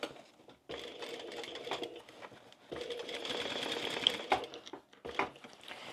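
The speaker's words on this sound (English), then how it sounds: "And I'm going to bring my edges up like that as I sew." A sewing machine stitches a seam on a small flap bag, running in two close bursts with a short pause between them, steady and fairly near with no talking.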